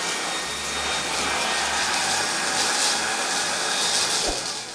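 A Kenmore or Eureka stick vacuum cleaner running in handheld mode without an attachment, giving a loud, steady, close whirring roar that holds for several seconds before winding down slightly.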